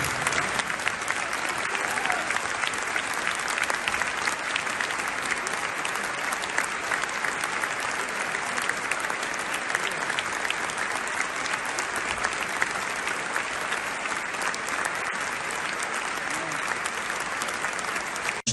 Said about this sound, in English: with a moment of applause